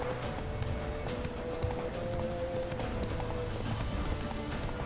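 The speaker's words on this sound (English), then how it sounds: "I'm calling my horse Boo." Hooves of a horse clip-clop steadily in The Witcher 3 as it gallops up after being called, a continuous rhythmic patter under game music and ambience, with a faint whinny.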